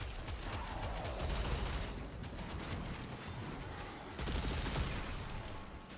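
An arc gun fires in the Warframe video game, a rapid crackling burst of electric shots with mechanical clicks, sustained and fairly loud over a noisy game background with no talk.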